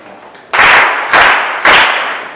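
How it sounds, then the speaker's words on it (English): Hands clapping in three loud, separate bursts after a short pause, each lasting about half a second. It is an audience applauding at a classroom poetry recitation. "So clap hands for him"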